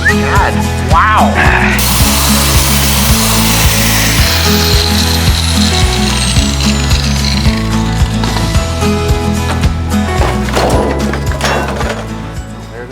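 A power tool saws through the metal body of a Toyota 4Runner during a Viper cut, a loud, steady grinding whine with shifting pitch, clanks and knocks over about thirteen seconds.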